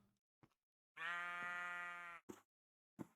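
A single drawn-out sheep bleat from the Minecraft modpack StoneBlock 4, lasting about a second, flanked by a few short clicks and soft bumps in an otherwise quiet background.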